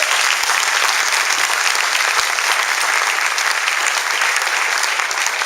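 A church congregation claps for Jesus Christ during a sermon, a loud, sustained wash of many hands filling the room for several seconds, even and unbroken, with no talking.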